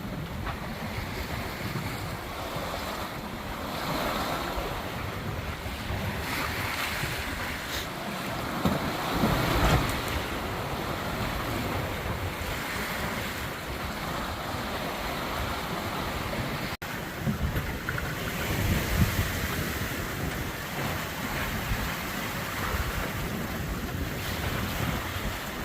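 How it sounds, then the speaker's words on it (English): Big waves and strong wind from the north buffet a sailboat on the Great Lakes in a constant roar of rushing water and wind noise on the microphone, with occasional louder surges. "I don't know if you can see it, but these are some big waves. It's been blowing for 3 days out of the north."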